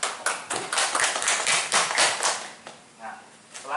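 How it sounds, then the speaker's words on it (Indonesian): A classroom of students clapping at the end of a lesson, a burst of quick, dense hand claps close by that thins out and fades toward the end. "Ayo, aplaus untuk kalian semua."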